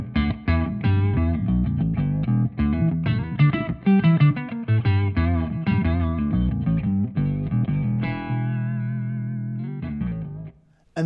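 Electric guitar runs through a Flattley Generator fuzz pedal in bass-only mode, giving a thick monophonic low-octave fuzz: a quick run of picked notes, then one long sustained note fading out, loud and without talk.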